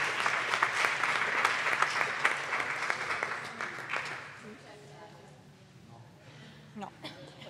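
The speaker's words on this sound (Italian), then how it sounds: "Un applauso per Flavio." An audience at a science summer event applauds, dense clapping that swells for about four seconds and then fades to scattered claps and a quieter room.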